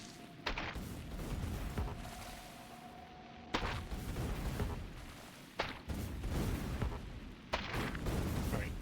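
Explosions in Factorio: Space Age, a series of heavy booms and thuds about every two seconds, mid-distance and moderately loud over a low ambient hum.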